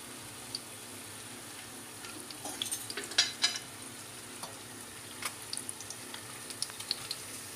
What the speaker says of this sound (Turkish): Yağımı iyice kızarttım. Böreklerimi de içine attım.